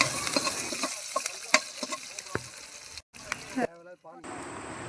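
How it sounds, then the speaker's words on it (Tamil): Chana dal and urad dal crackle and sizzle in hot oil with scattered pops and scraping stirs, close by, then cut out abruptly near the end. "கடலைப்பருப்பு, அப்புறம் உளுத்தம்பருப்பு சேர்த்து நல்லா பொரிய விடுங்க."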